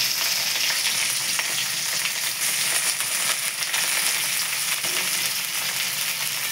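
Onions fry in hot oil in a pan for ghugni, a loud, continuous close sizzle with faint stirring underneath, no voices.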